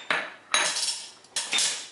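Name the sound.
spoons clinking while measuring spices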